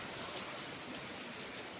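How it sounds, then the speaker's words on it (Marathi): Heavy rain pours steadily outdoors in a Marathi village during a downpour, a dense, continuous broadband hiss with no break, close and fairly loud, with no voices. "पाऊस रप रप पाऊस चालू आहे"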